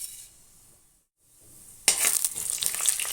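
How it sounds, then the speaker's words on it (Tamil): Mustard seeds, fenugreek and cumin drop into hot oil for tempering and burst into a loud, close crackling sizzle with small pops after a quiet start, continuing steadily to the end. "அதுதான் இப்போ நான் தாளிக்க போகிறேன்."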